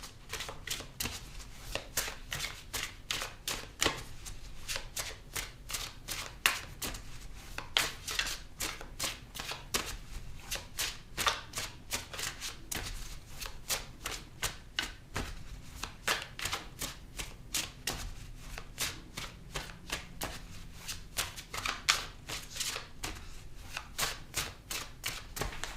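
Tarot cards being shuffled in a reading, a long run of rapid riffling and slapping bursts, close and steady, with a little speech in places.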